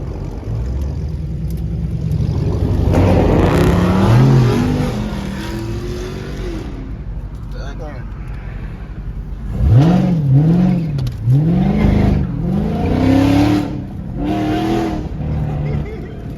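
Dodge Hellcat and Scat Pack muscle cars accelerating hard in traffic, with several loud rising engine pulls and revs close by, a continuous rumble underneath, and voices talking over parts of it.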